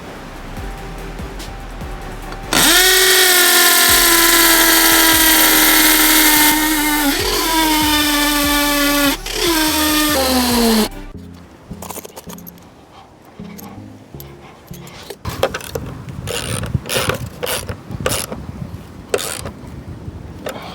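Power tool drives a fastener into a deck ledger board, a loud whirring burst with rising pitch that stops and restarts a few times, followed by quieter knocks and handling clatter.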